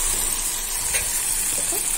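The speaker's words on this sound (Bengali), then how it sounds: "এবার আমি জল দিয়ে দিচ্ছি।" Water splashes into a pan of hot cooked-down spice masala, and a dense, even hiss and sizzle holds steady and close throughout, with no voices.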